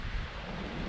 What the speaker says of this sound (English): it's not usually this windy.